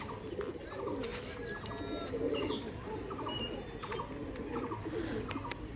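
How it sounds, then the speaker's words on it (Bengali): Pigeons on a rooftop coo steadily in soft repeated phrases while eating rice, over a dense background murmur, with occasional higher chirps from other birds. "ছাদে এখনো অনেকগুলোই পায়রা বসে আছে"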